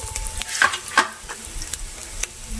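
Carrots are being sautéed for vegetable kababs in a pan with bell pepper, making a soft crackling sizzle with quick scraping stirs and a few clinks of a spoon against the metal, close and brief.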